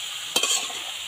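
Taro, potato and onion sauté with spice powder in a pan, giving a soft continuous sizzle marked by one brief burst of stirring, with no voices.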